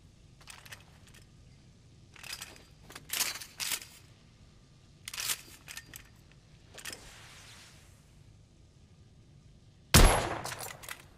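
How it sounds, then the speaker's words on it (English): A rifle fitted with a telescopic sight fires in the video game The Order 1886, giving a sharp, loud crack near the end, preceded by several short metallic clicks and handling noises. "I've outfitted this one with a telescopic sight. It's ideal for long-range shooting."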